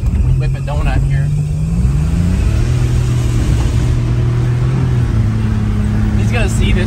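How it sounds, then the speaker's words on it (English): A worn-out, clapped pickup truck's engine growls and rises in pitch as it revs through a donut, loud and close, with voices underneath. "Whip a donut here."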